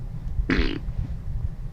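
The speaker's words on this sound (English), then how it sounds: "You fart in the White House." A single short, buzzy fart sound effect rises out of a steady low rumbling background, brief and fairly loud.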